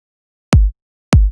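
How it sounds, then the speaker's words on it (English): Two deep, punchy electronic kick drum hits, each a layered blend of two kicks, strike about half a second apart in a studio production, each with a sharp click attack and booming low tail, alone and loud. "2 kicks combined. This is the main kick."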